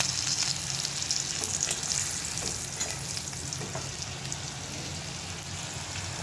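Green chilies fry in hot oil with a steady, close sizzle and crackle that holds unbroken throughout, no voices over it.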